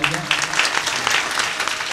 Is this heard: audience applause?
yes